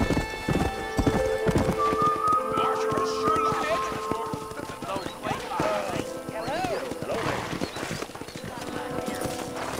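Hooves of a horse in Red Dead Redemption clip-clop steadily across the ground, with a neigh or whinny and game music and effects layered throughout, while someone talks over it.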